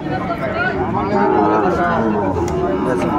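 A Sahiwal bull calf at a cattle market in Dhaka lets out a loud, drawn-out moo close by, lasting nearly the whole moment with little else audible.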